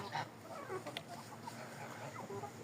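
Chickens cluck and chatter in a busy flock with more roosters than hens, a rooster's call rising briefly amid the steady farmyard murmur.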